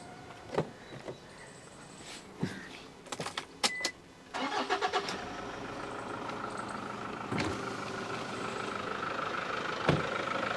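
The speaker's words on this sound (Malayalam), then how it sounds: "ഒന്ന് ഏതായാലും ഒന്ന് സ്റ്റാർട്ടും കൂടി ചെയ്യാം." Toyota Fortuner 4x2 automatic starting up: a few clicks and door or window sounds, then the engine cranks and catches into a steady idle, close and clear.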